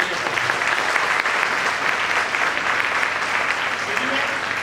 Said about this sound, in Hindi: भाई मनीष पाल के लिए तो बस दबा के तालियां